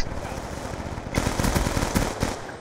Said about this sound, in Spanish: me matas con una escopeta y encima de tres tiros